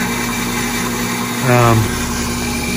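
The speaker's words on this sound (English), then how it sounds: "The pump runs almost constant." A small water pump with a little pressure tank runs almost constantly to feed farm sprinklers, a steady mechanical hum and vibration throughout, while a voice briefly speaks over it partway through.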